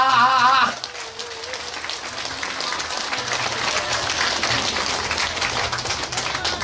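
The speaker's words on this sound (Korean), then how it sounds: "박수 한번 쳐라" Audience applause at a live pumba (각설이) folk performance, a sustained dense crackle of many hands that swells after a brief opening of singing voice and holds steady to the end.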